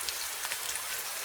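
Steady rain pours down in a dense, even hiss of countless drops pattering on a surface, continuous and fairly soft, with no voices.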